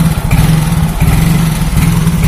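A Yamaha Mio Soul GT motorcycle idling roughly while struggling to hold a steady idle, a loud close engine drone with an uneven pulsing throb and a brief dip in the middle.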